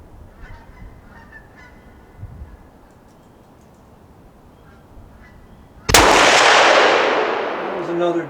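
A hunting rifle fired off-hand during target practice: one sharp, loud shot near the end that booms and rolls away into a long fading echo, following several quiet seconds of outdoor ambience.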